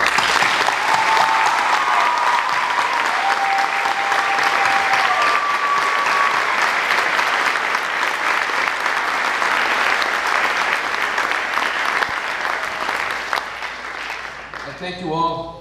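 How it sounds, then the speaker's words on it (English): Sustained applause from a crowd at an NJROTC change of command ceremony honoring retiring unit members, steady and dense throughout before tapering off near the end, with a few faint tones over the clapping. "give a round of applause to our retiring"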